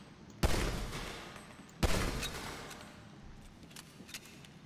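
Gunfire in GTA V, two sharp heavy bursts a little over a second apart, each decaying into a rumbling tail, followed by fainter scattered shots in the background.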